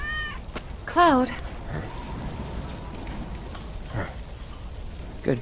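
A cat in Final Fantasy 7 Remake gives a clear rising-and-falling meow near the start, loud and close over a soft rain-like ambience, with faint talk later.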